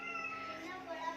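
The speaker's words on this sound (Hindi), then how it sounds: "अरे मियाऊ भी है यहाँ पे" A cat meowing indoors in a home kitchen area, a few soft mewing calls blended with steady low hum and nearby voices talking over it throughout.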